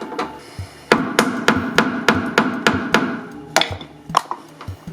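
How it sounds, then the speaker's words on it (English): Hammer striking a rusty retainer on a Scimitar car under restoration, a close series of about a dozen sharp metallic blows in a fairly steady rhythm with a brief pause before a final few hits. "Use the hammer first."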